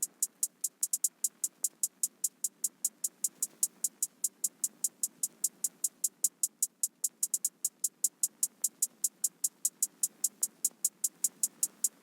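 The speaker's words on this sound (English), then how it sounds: "So the hi-hat pattern is going to sound like this." Programmed trap hi-hat pattern in FL Studio: crisp, rapid, evenly spaced ticks with occasional quicker rolls, steady and fairly quiet over a faint hiss, nothing else playing.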